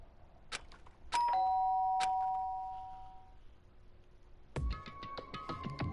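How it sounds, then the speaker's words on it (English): A chiming doorbell from the video game Danganronpa rings twice with clear bell tones that decay, then a cluster of bright clanging chimes follows, all loud and close against a quiet background. "did I hear doorbell?"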